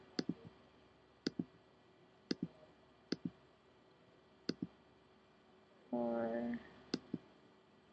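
A computer mouse clicks sharply several times at an irregular pace, close and fairly quiet, with a short spoken word partway through.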